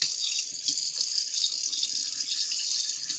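Water runs steadily from a tap as something is rinsed under it, a continuous bright hiss lasting the whole stretch with small splashing shifts and no talk.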